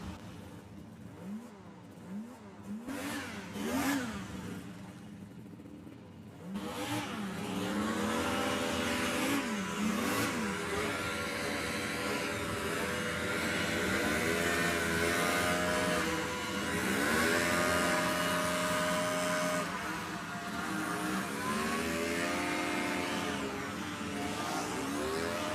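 Several hovercraft engines rev hard at the start of a race, rising into a loud, sustained roar with pitch sweeping up and down as they accelerate.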